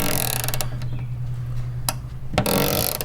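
Ratcheting wrench tightening a Metal Cloak rock slider bolt on a 1997–2006 Jeep TJ, a steady mechanical whir with a few sharp clicks and clanks, close and fairly loud.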